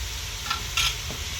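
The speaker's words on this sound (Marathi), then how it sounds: "टोमॅटो पेस्ट छान परतून घ्यायचं मस्त पेस्ट." Tomato paste for mutton biryani being sautéed in a pan over a wood-fired stove, a soft continuous sizzle broken by two brief scraping stirs, close and without talk.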